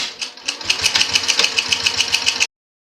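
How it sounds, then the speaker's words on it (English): Sewing machine stitching binding onto a zipper pouch, a steady close whirring run with rapid needle pulses for about two seconds before stopping abruptly. "I'm just going to sew this on with a 1/4 ounce seam allowance."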